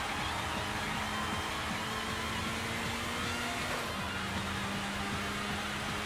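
A car engine drones steadily through a race in the Sega GT video game, a continuous low hum with a faint rising and falling pitch that stays at an even level throughout.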